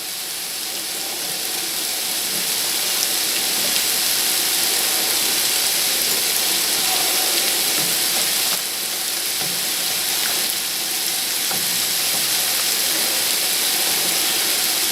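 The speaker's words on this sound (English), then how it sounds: "So I just gotta come over and stir the noodles again." Noodles for beef stroganoff sizzle steadily in a hot pan while being stirred, a continuous close frying hiss with faint scraping, no voices.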